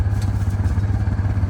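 Quad bike engine running off throttle while engine braking down a trail, a steady low throbbing drone with rapid pulsing and light clatter, close and continuous with no talk.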